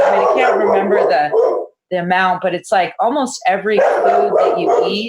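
A dog barks in the background while a person keeps talking over it, the barks short and mixed in beneath steady speech.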